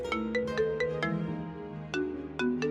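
A bright electronic ringtone plays a repeating melodic pattern of sharp chiming notes, steady and close, with no voices.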